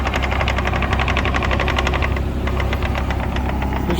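A mini excavator's diesel engine works hard as the machine pushes itself up on its bucket, giving a steady close, loud knocking rumble with rapid regular pulsing and no talking.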